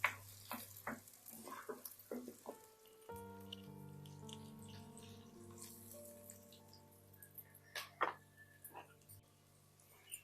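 Onions stirred and fried in a pan for Telangana boti curry: close spatula scrapes and clicks at an uneven pace over a soft sizzle, with a steady faint hum in the background and no talking.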